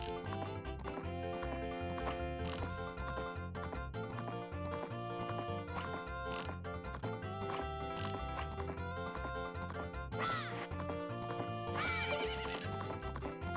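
Horses neighing in Majora's Mask at the Gorman brothers' ranch races, loud whinnies near the end over steady clip-clop hooves and busy game music throughout.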